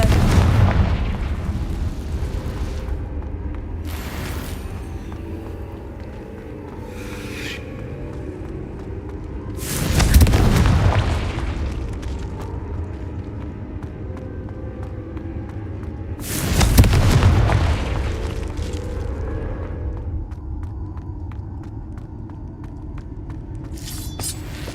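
Confringo spell blasts in Hogwarts Legacy explode as loud booming impacts, with two big rumbling bursts standing out among smaller pops and a continuous background of game ambience.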